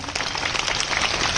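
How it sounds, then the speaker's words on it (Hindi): Parents and guests at a school welcome ceremony applaud two honourees, a brief burst of dense, steady clapping. "इन दोनों के लिए पुनः जोरदार तालियां।"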